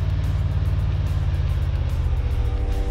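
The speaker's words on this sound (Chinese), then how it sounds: "跑车开过去了" A sports car drives by in the mobile battle royale game Free Fire, its engine a loud, steady low drone that holds unbroken for a few seconds, close and alone without talk.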